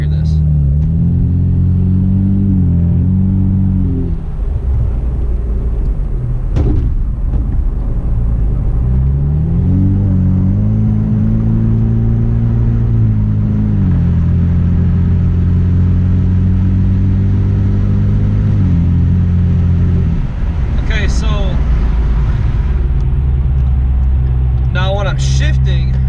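A tuned Ford Mustang EcoBoost pulls away from a traffic light, its engine rumbling and rising through the revs with a shift partway through, steady and close inside the cabin, with a driver talking over it.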